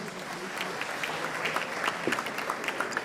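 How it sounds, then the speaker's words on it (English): Steady applause from the audience at a pizza awards gala in Milan, a dense, even patter of many hands clapping at moderate volume with no break. "An applause for our great partners."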